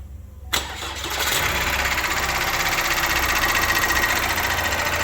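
An Opel Astra J 1.6 CDTI (B16DTH) diesel engine with 138,000 km cranks briefly, catches, and settles into a steady rattling idle, loud and close, with no voices.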